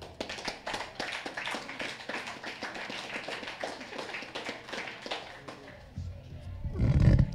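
Audience applause at a PCC public outreach launch event, a dense run of many hands clapping for several seconds before fading, then a low rumbling swell near the end.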